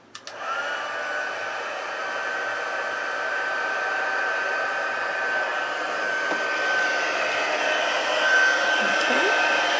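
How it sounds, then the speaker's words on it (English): A heat embossing tool blows hot air in a steady, loud, continuous whoosh with a faint whine, running alone almost without a break after switching on. "Bring in my heat tool"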